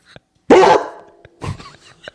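A dog barks in a played video clip, one loud bark followed by a fainter second one, the sound somewhat thin as if from a device speaker.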